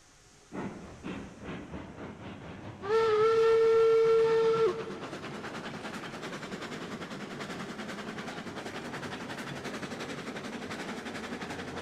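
A steam train in a video game chuffs in quick beats, lets out a loud, sustained steam whistle for a couple of seconds, then settles into a steady rolling rumble of wheels and cars.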